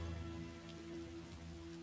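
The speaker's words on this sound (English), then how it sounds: "I could do without this damnable rain." Steady rain falls in a stormy town in the video game Elder Scrolls Online, a soft continuous patter with a low droning hum beneath it and no voices.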